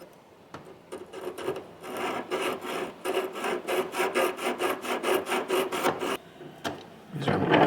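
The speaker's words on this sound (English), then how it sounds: "Got to sharpen these, or at least the 1-inch Harbor Freight Forstner bit" A 1-inch Harbor Freight Forstner bit is sharpened by hand with a file, giving bursts of rhythmic rasping strokes, close and fairly loud, with pauses between.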